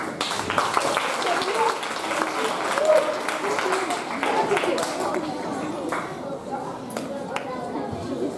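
Audience applause for a school theatre troupe of children, a sustained wash of clapping from a crowd, steady and moderately loud with chatter and voices mixed in.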